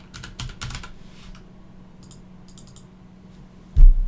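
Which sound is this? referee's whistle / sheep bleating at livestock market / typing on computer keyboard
typing on computer keyboard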